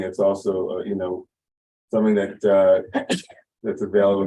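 A single sharp sneeze breaks into a person's speech during a Saturday morning learning session at the Romemu congregation, brief and close, with talking before and after it.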